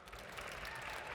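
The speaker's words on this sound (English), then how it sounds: "Oh, some cheering. Some cheering from the back." Audience at a live investing panel event applauding and cheering, a steady dense wash of clapping from the crowd that holds evenly through the moment, fairly distant.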